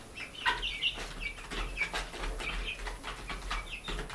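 Guinea fowl and golden laced Wyandotte chickens clucking together, several short chirps and clucks scattered over a few seconds with some shuffling and wing movement, moderately close and with no talk.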